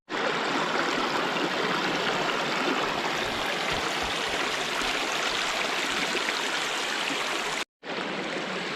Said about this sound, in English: Hopefully you can hear me over the babbling brook.